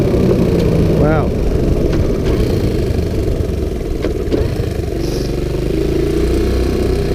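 A Sunl 110cc three-speed ATV runs its engine close by, with a steady buzzing drone that rises and falls slightly as it revs through the gears. A person speaks over the engine noise.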